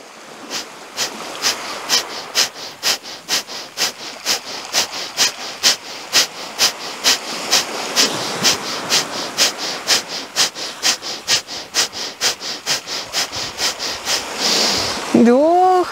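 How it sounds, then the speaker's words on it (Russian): Breath of fire, a rapid forceful breathing exercise, is heard as about thirty sharp, evenly spaced exhalations in a fast steady rhythm, close and loud. A brief spoken phrase comes at the end. "30 раз дыхание огня."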